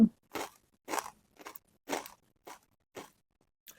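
Crunchy bites and chews of charcoal-grilled fried pork, about eight distinct crisp crunches in an even rhythm, loud and close, with silence between them and no talking.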